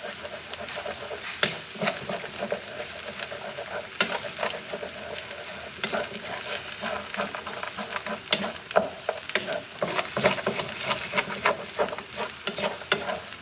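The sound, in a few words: stir-frying fried rice while mixing in an egg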